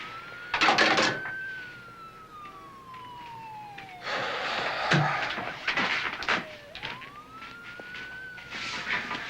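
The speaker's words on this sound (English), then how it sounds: "all the sirens out there?" A wailing siren rises and falls in the distance, fading in and out, with intermittent rustling and bumps nearby.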